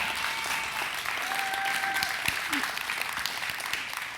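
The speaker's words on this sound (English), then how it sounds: "You can give him a round of applause." A live audience at a mental health organisation's music talk event applauds steadily and loudly throughout, a dense wash of clapping with scattered cheers.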